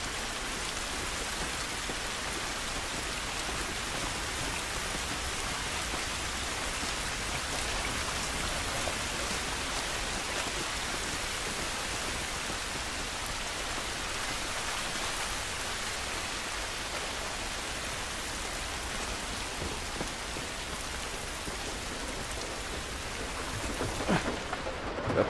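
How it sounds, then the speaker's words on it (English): Steady outdoor rain falling in The Last of Us, a dense unbroken hiss across the whole span, near and even in level with a brief louder patter at the very end, no voices. "This rain ain't gonna do us any good."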